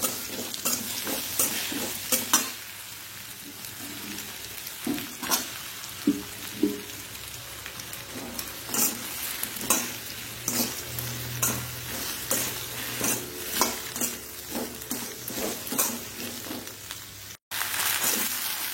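Chopped ladies finger (okra) fries in a little oil in a pan for a Udupi-Mangalore style bende saaru, giving a steady close sizzle broken by repeated scraping stir strokes throughout, with no talking.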